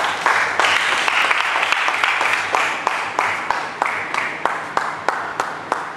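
A church congregation at a bishops and pastors leadership conference in Ghana claps hands together in a fast, steady rhythm, loud and full, with a hint of voices beneath the applause.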